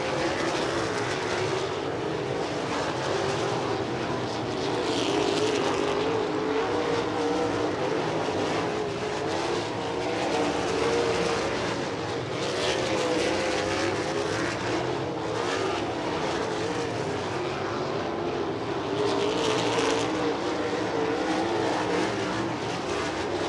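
USAC National sprint cars roar around the dirt oval at Lincoln Park Speedway during hot laps, a dense continuous engine drone swelling and fading as cars pass, loud and without a break.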